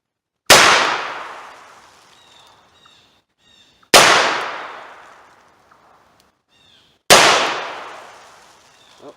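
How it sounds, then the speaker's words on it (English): Three loud .38 caliber wadcutter shots from a revolver fired at a paper target, each a sharp crack with a long decaying echo, spaced about three and a half seconds apart, with faint bird calls between shots. "There's the 38 caliber wad cutters. I'll shoot on the tape on the left side of the target"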